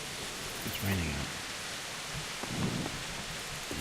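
Steady rain at night in the medieval game Kingdom Come Deliverance, a constant hiss of falling water, with a couple of soft low rumbles and a voice talking briefly over it.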